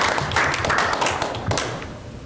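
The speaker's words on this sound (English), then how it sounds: "I'm going to clap for you." Lone person clapping hands at a school board meeting, a short run of quick close claps that fades out after a couple of seconds.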